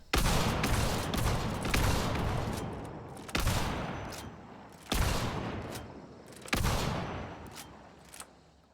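A Terminus shotgun in Hunt: Showdown booms four times in quick succession, each loud blast ringing out with a long decaying tail over a dense, noisy background.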